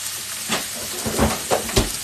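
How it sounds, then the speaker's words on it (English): Green beans sauté in a 10-inch frying pan, giving a steady soft sizzle with a few brief louder bursts of stirring and crackle, heard up close with no talking. "All right, so let's them saute up just a little bit."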